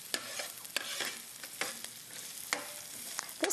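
Onions fry in a pan with a faint steady sizzle, broken by sharp scraping clicks as a utensil stirs them at irregular intervals.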